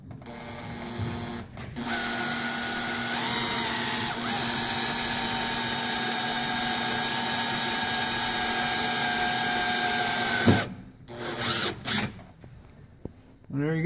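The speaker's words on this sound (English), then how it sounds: "Then you take your drill, making sure it's going in the right direction." An electric drill whines at a steady high pitch for several seconds while drilling a hole in a 1966 Ford Mustang coupe, shifts speed briefly, then stops, followed by a few clunks and handling sounds.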